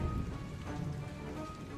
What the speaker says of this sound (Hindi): अब बारिश भी आ गई है, आगे का मार्ग और भी कठिन दिखाई दे रहा है।